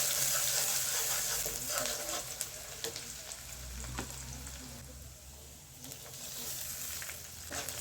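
Onions fry in hot oil for a quick noodle dish, giving a loud, steady close sizzle with occasional stirring scrapes and clicks across the whole stretch.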